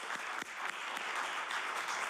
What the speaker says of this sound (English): We'll give him a clap.